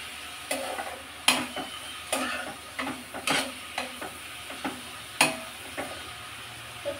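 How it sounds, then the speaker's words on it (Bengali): Leafy greens (shak) frying in a pan are stirred in a regular rhythm of about a dozen scraping strokes over a soft sizzle, close by with no voices. "তো আমি শাকটা একটু নাড়াচাড়া করে দিয়েছি।"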